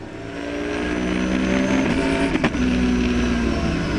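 BMW 1 Series race cars in a Supercar Challenge race at Zandvoort, exiting the Arie Luijendijk chicane: steady loud engine roar with harmonic whine, a brief sharp burst near the middle, continuous without voices.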